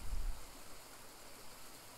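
A river flows with a soft, even rush of water, faint and continuous throughout.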